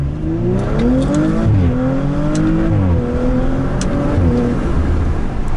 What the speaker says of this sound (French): Maintenant qu'on est hors de la ville, je vais vous faire une petite accélération.